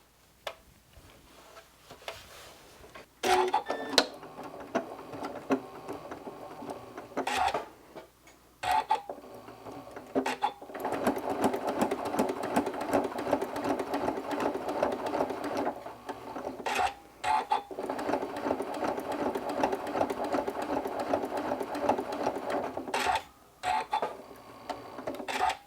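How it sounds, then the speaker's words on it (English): A sewing machine runs in several bursts of rapid, even stitching through cloth while a stuffed fabric pumpkin is sewn shut, each run separated by brief pauses and soft clicks, fairly quiet and near. "I'm just going to stitch across inside towards the open edge of this pumpkin body"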